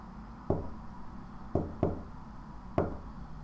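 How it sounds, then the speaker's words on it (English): Knocks on a door in the visual novel game Chaos;Child, four sharp hollow raps in an uneven rhythm over quiet background hum, with no talking. "the knocking continued. It was the same rhythm at the same pace."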